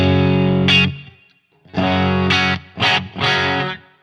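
High-gain Friedman Smallbox 50 guitar amp on its bright setting, loud distorted chords and short bursts with gaps of silence between, played alone.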